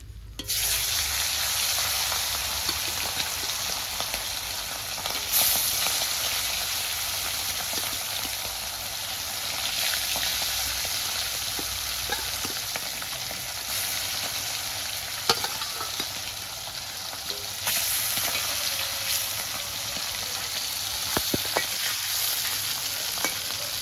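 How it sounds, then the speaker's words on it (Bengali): Hilsa fish pieces fry in oil in a dense, continuous sizzle and crackle, close and steady, with small pops and occasional clinks of stirring. "মাছ ভাজা তো বসিয়ে দিয়েছি।"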